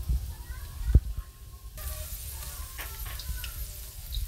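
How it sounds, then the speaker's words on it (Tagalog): Garlic sizzling in hot cooking oil in a home kitchen, a soft crackling hiss with a sharp clink of a utensil early on, continuing under a voice speaking. "nagpainit po tayo ng mantika at naglagay po tayo ng bawang"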